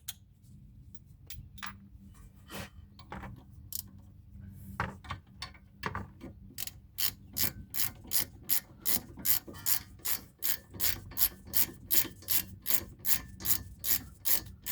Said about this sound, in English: use a 17 millimeter 6-point socket for the caliper bolt.